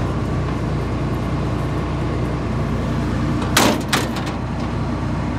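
A small door on a farm machine during wheat harvest is opened, a short sharp clunk and rattle cutting through a steady loud engine drone.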